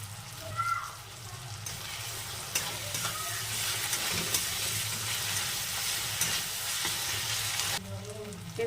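Ginger garlic paste frying in a pan with melted-down tomatoes for a soybean and potato dish, a steady close sizzle with occasional stirring bumps and no talking.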